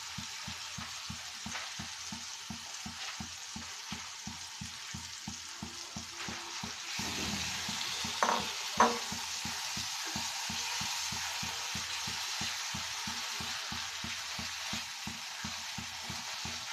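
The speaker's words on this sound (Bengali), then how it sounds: "এখন আমি যে বেগুন আর টমেটো পেস্ট করে রেখেছিলাম সেগুলো এখন দিয়ে দিব।" Eggplant and tomato paste frying in a spice masala for begun bharta, a steady sizzle throughout with a rhythmic scraping of a spatula and a couple of louder clatters midway, no voices.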